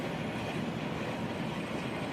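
Rail cars loaded with molten steel roll past inside a steel works, a steady loud rumbling clatter of wheels and heavy wagons filling the scene without pause.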